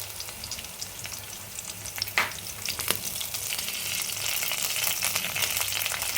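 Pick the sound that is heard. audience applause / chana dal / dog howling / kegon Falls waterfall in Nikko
chana dal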